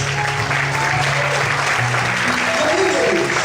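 A church congregation claps at a sermon's urging to praise God, giving a steady, full-room applause under singing or keyboard tones.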